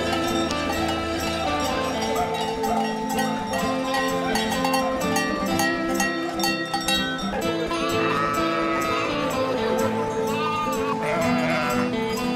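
A flock of sheep bleats during a transhumance drive on the road toward Valsassina in the Italian Alps, with repeated overlapping calls and possible cowbells set within a dense, continuous background of movement and noise.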